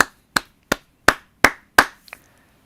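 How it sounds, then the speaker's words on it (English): Five slow, evenly spaced single claps, sharp and fairly close, delivered as a mock golf clap, followed by a couple of faint small taps and then silence. "Give those guys a golf clap."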